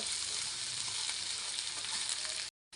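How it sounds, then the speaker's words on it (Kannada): Mixed vegetables for a sabzi fry in a little oil, giving a steady, close, bright sizzle that runs evenly throughout before cutting out briefly near the end. "ಇದೆಲ್ಲ ಸ್ವಲ್ಪ ಎಣ್ಣೆಯಲ್ಲಿ ಚೆನ್ನಾಗಿ ಫ್ರೈ ಆಗಬೇಕು"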